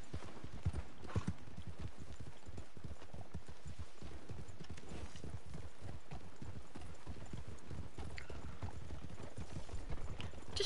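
Horse hooves clip-clop steadily at a quick riding pace in the Red Dead Online video game, close and continuous, with occasional faint whinnies and game ambience beneath.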